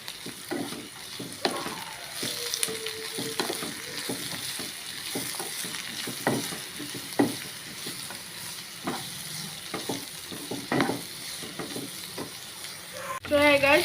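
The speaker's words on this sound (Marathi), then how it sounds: "तेम बरें मोव जावं पासून बरें फ्राय करूंक जाय" Red and yellow capsicum fry in a pan with a steady sizzle, punctuated by repeated clinks and scrapes of a spatula stirring throughout, close and moderately loud, with a brief louder clatter at the end.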